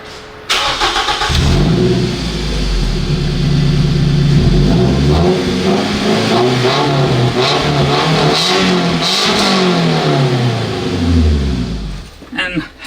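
A Scion tC with its muffler deleted is started and revved hard up close, giving a loud, raspy engine roar that rises and falls through repeated throttle blips over about twelve seconds before cutting off.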